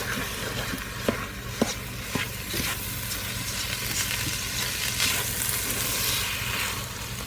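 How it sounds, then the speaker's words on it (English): Chili stirred in a crockpot after Frank's Red Hot sauce is added, a steady close scraping and bubbling wash with a few soft knocks of the spoon early on. "And stir that in."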